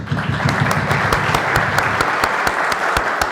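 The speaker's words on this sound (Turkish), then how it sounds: "Alkış" Loud audience applause at a university talk, a dense patter of many clapping hands with a few sharper close claps standing out, steady and energetic throughout.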